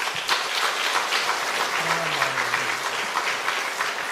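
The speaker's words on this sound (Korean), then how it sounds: "우리 격려의 박수로 좀" Congregation at an autumn church revival service applauds to welcome a visiting pastor, an even, continuous wash of clapping from a large room that holds steady throughout.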